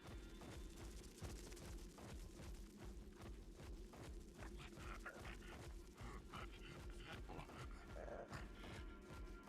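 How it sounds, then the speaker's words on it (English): Pet dog companion in ARK Survival Ascended on the Aberration map makes steady low growling and grunting sounds. The noise runs continuously under a dense, busy game soundscape at a fairly constant level for the whole stretch. "My dog's making sounds."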